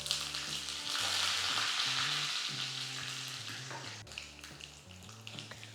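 Mustard seeds and curry leaves sizzle in hot ghee in a close, steady frying hiss that swells and eases, with faint stirring taps and no talking.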